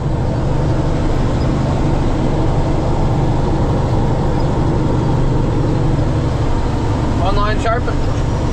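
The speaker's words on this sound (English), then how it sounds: "Little train action here." A steady, loud rumble of a freight train rolling past fills the whole stretch, with a brief squeal of metal near the end.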